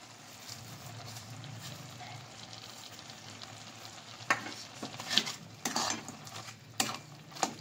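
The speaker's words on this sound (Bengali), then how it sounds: "আবার একটু নেড়ে চেড়ে দেব" Coconut, milk and jaggery filling cooking in a pan, first with a quiet low bubbling, then several sharp spoon scrapes and clinks in a loose rhythm; no speech.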